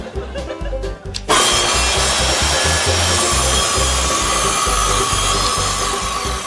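After a brief moment of low rumbling, a power saw starts abruptly and runs loud and steady, cutting wood with a harsh, continuous whine.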